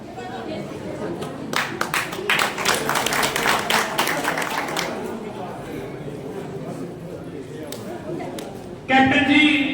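Applause and crowd chatter welcome Captain Abhimanyu at a village support gathering in Rajthal, Haryana, with clapping bursts through the first half that fade into crowd noise and a brief voice near the end.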